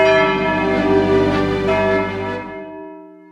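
Church bells in the bell tower of Saint Peter's Church in Prades ring out loud and close in one sustained, richly resonant chord that hums and slowly fades away.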